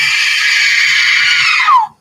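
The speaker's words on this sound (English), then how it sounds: "Screams." A scream preset plays from a sound-effect gadget, a shrill electronic shriek held for nearly two seconds before sliding downward and cutting off, loud and alone.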